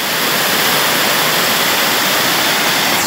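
Waterfall at Riacho do Mel in a rural area of Olivença, a loud, dense, continuous rush of falling water, constant and close throughout with no voices.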